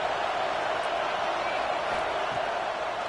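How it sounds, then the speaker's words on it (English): Crowd noise in College Football 26 forms a steady, dense roar of a stadium audience, continuous and loud throughout without clear breaks. "This crowd is trying to inspire this defense to make a big red zone stop."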